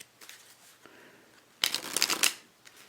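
A Heretic playing card deck with a master finish, printed by Expert Playing Cards, is handled with faint soft slides before a loud, close riffle shuffle lasting about a second, then quiet handling.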